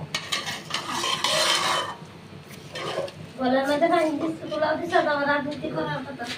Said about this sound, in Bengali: পোলাওয়ের জন্য পোলাওটা একটু ভাজা ভাজা হোক